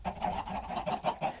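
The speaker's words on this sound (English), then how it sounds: "Chickens are doing well" Minecraft chickens cluck in a quick, repeated run of short bursts, close and moderately loud with no talking.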